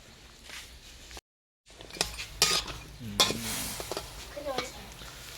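Pork bones for a bamboo shoot curry sizzle and are stirred in a pot, with scraping utensil strokes and clatter in short bursts over a soft, steady frying hiss.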